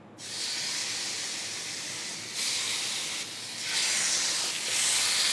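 Peri peri chicken pieces laid one by one into a hot pan on medium flame, a loud broad sizzle that swells in steps as each piece goes in, with no talking.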